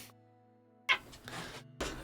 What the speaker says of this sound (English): Guys, my cats are insane.